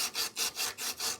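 Fine 400-grit sandpaper rubbed over corroded reed parts from an old R. F. Stevens folding reed organ, making quick, close, rhythmic back-and-forth scratching strokes, about six in a row, with no talking.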